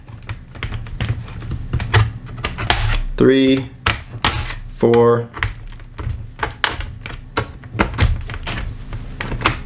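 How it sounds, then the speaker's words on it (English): Plastic snaps on a Dell Inspiron 14 laptop keyboard being pried up with a metal pry tool, giving a run of small close clicks and taps amid handling noise, with someone talking over them. "We're gonna snap those up so we can take our keyboard out."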